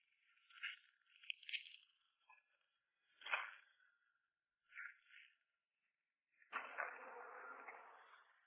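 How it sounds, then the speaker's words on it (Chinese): Bees buzz around a stretch of flowers in short, faint passes close to the microphone, with gaps of near silence between them and one longer, steadier drone at the end. "到处都是蜜蜂的嗡嗡声。"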